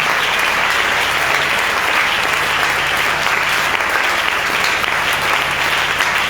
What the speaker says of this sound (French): je dis on acclame Jésus